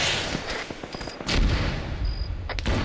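Rocket launcher fired in a military video game, a loud close blast with heavy low rumble and back blast around the middle, followed by sustained booming rumble and a sharp second crack near the end.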